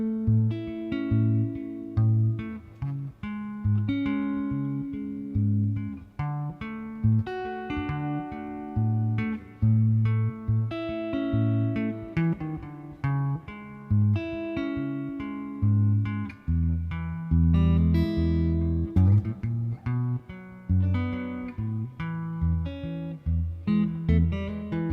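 A rhythm guitar part for the Grateful Dead's Althea, played in Jerry Garcia style, with steady picked chords and bass notes alternating in a clean, close, continuous groove without speech.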